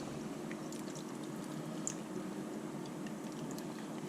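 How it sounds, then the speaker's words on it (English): Dry white wine and stock gently poured into a pot of beef ragu, a faint continuous liquid trickle with soft wet squelching, quiet and alone without talk. "I also added 150 mils into there of dry white wine, and again we're just going to gently pour that in"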